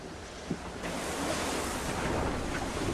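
Roaring wind at 48 knots and rushing sea surf around a racing sailboat on the Cape Horn route, a dense, loud, continuous wash with a brief thump near the start and no talk.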